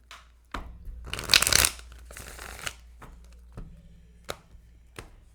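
A deck of tarot cards being shuffled in a couple of loud riffling bursts, followed by a few sharp taps and softer handling sounds, close by in a quiet room with no voices.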